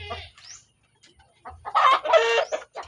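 A pet rooster clucks close by in short throaty bursts, quiet at first, then a louder run of rapid clucks near the end.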